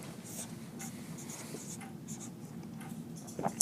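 Pen or marker scratches steadily across a writing surface as a physics calculation on angular momentum is worked out, close and continuous, with a faint voice in the background.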